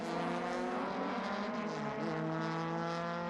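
An Alfa Romeo race car is driven hard around a track, its engine a sustained high-revving harmonic wail with a pitch dip as it shifts or brakes, loud and continuous under faint commentary.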